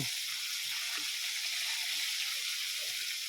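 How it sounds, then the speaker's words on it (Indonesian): Food frying in hot oil, a continuous soft sizzle and hiss heard quietly throughout, with faint low knocks underneath and no speech. "balure digoreng melendung."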